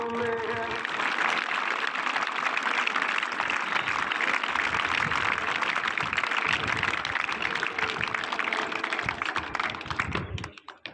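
An audience at a Pakistani cadet college applauds a cadet's recited poem with loud, dense, sustained clapping for about ten seconds before it tapers off abruptly.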